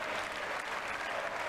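Broad, steady applause fills a congressional chamber during an impeachment trial session, a dense wash of clapping from a large crowd that holds constant throughout, with no distinct cheering voices standing out.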